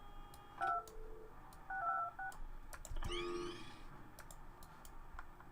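Telephone keypad tones in the Project Highrise video game, several short beeping dial tones in quick clusters, followed by a rising warbly chirp, with light clicks scattered around them and no talking.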